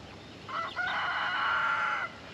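Chickens out on a grass pasture, one giving a loud, drawn-out crowing call that lasts more than a second, close by over faint outdoor background noise.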